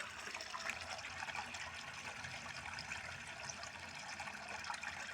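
Spring water flows at the source of the river Sió with a soft, steady trickle and burble, faint and continuous, with no voices.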